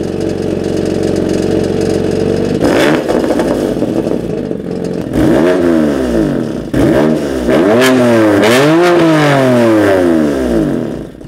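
A car engine with a GT4 exhaust cranks and fires up, then revs repeatedly in loud, close rising and falling bursts before settling near idle.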